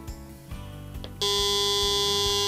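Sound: flashlight SOS mode pulsing, heard as buzzing

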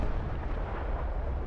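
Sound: SU-76D artillery gun firing in War Thunder video game

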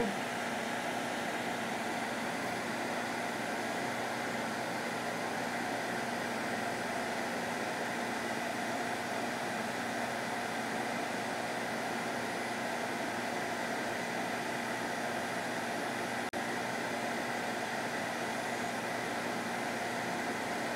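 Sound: dust vacuum running during Shaper Origin router cutting

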